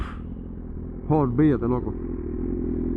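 A BMW S1000RR motorcycle rumbles with a steady low exhaust note throughout, while a voice speaks briefly over it in the middle.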